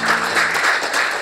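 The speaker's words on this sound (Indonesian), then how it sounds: "tepuk tangan." Applause from the crowd at the opening of a painting exhibition, a steady, dense wash of many hands clapping at close range with no break, short and fairly loud.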